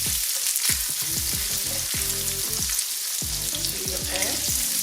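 Butter sizzles in a frying pan, ready for salmon, as a steady close hiss with a series of low thumps and clinks from the pan being handled, and no one speaks.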